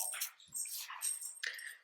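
Several dogs making a commotion in a home, sharp yelps and barks in quick bursts, somewhat distant behind the room.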